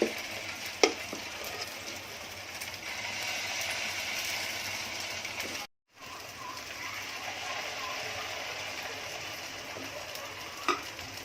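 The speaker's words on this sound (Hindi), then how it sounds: "ये भी फ्राई पैन थोड़ा घी लगाने का और थोड़ा सा गर्म करने रखने का, फिर ये डालने का।" Bhanori batter sizzling and frying in ghee in a frying pan, a steady crackling hiss with a brief break midway and a couple of clinks, fairly quiet and close.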